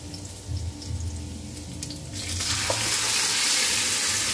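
Garlic, onion and ginger sautéed in a pan, a frying sizzle that suddenly swells into a loud, bright, continuous hiss halfway through as the aromatics hit the hot oil.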